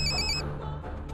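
A telephone rings with a short electronic trill for under half a second, then cuts off, leaving a low room hum.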